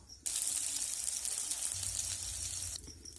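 Vada fritters frying in hot oil: a steady, bright sizzle that starts abruptly, holds for about two and a half seconds, then cuts off, with a faint low hum underneath.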